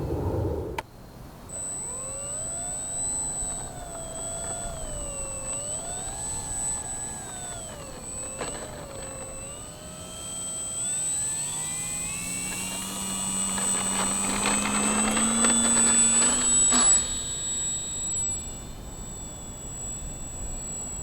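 An FMS Ranger electric RC model airplane dives in flight on a windy day, its motor giving a thin, wavering, high-pitched whine that rises and falls, growing louder near the middle of the flight.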